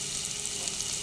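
Chopped carrot fries in a pan, giving a soft, steady sizzle with a fine crackling hiss that holds evenly throughout, fairly quiet and with no talking.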